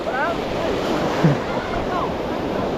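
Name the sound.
ocean waves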